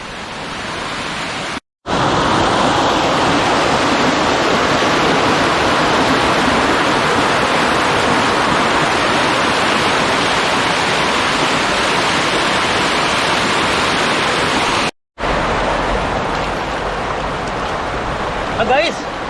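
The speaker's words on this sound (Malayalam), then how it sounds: "തൊട്ടിപ്പുറത്തൊരു വെള്ളച്ചാട്ടം ഉണ്ട് നൈസ് വെള്ളച്ചാട്ടമാണ്" A waterfall near a cave and church at a rocky viewpoint in Manjapra, Kochi, roaring as a dense, loud, unbroken rush of falling water that fills the whole stretch apart from two brief dropouts.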